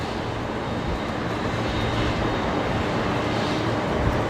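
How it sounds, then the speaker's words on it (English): A USAF C-17 departs Brisbane Airport, giving a steady, loud, broadband jet roar that holds evenly throughout with no voices. "Hopefully you were here just in time for the C-17 departure there."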